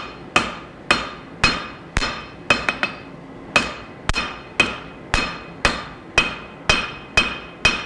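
Hammer blows land on a Wootz steel knife during forging, a regular series of about fifteen sharp ringing strikes, close and loud, with brief decays and one quick double tap.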